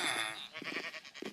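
Sheep in the game Minecraft bleats in a quick run of wavering, nasal calls, close and fairly loud, with no talking over it.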